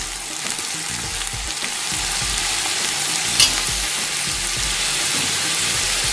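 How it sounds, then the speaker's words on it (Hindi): Onions fry in hot oil for a chicken korma, a dense steady sizzle with stirring scrapes running throughout, close and fairly loud, without speech. "तेल अच्छी तरह से गर्म हो चुका है। अब इसमें हम प्याज डालेंगे।"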